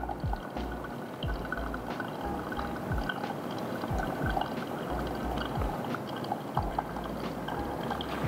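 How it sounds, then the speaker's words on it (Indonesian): Hot water poured from a kettle into a Hario Drip Assist over a coffee dripper, a steady close trickling stream with soft bubbling and splashing, continuous and unaccompanied by speech. "Sekarang kita tuangnya di tengah. Sampai 210, jadi setengah dari total air."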